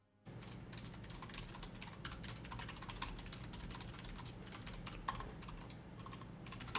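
Faint, rapid typing on a computer keyboard during a Pathfinder 2E tabletop role-playing session: a steady, dense patter of small key clicks that runs unbroken for several seconds, with no one talking.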